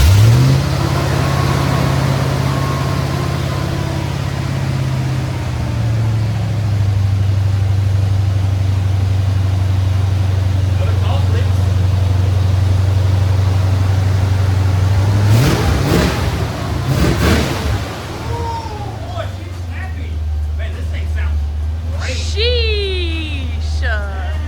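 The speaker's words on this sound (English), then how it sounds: "Cold start." A 1987 Ford Thunderbird fitted with long tube headers cold starts and settles into a loud, steady idle. Sharp revs follow, then the engine drops back to idle while people talk nearby.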